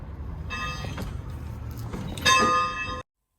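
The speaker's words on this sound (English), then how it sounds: "You can climb aboard this old train and play like an engineer and ring the bell." The bell of the old 382 Cannonball Express locomotive rings in a museum, a few bright metallic clangs with ringing overtones that swell louder near the end before cutting off abruptly.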